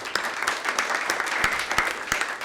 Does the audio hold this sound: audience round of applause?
yes